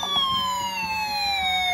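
A battery-powered toy fire truck siren plays a steady electronic tone that slowly glides downward, faint and tinny, with no talking.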